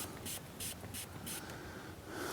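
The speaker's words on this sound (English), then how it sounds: "I just spray it right here in this little corner on both sides. I do about 10 squirts." Quick hissing squirts of interior scent spray inside a BMW E92 M3 repeat in a steady rhythm, five or six short bursts close up and fairly quiet.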